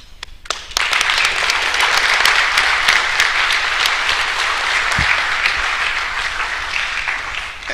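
Loud, close applause from a summit audience for a speaker, starting after a few stray claps and holding steady and dense to the end.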